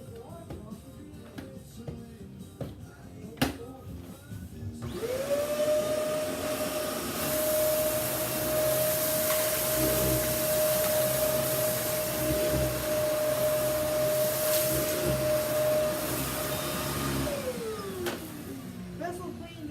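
A Kenmore vacuum cleaner switches on after a few quiet knocks, spinning up to a loud, steady whine and roar that holds for about twelve seconds, then winds down as the motor is turned off.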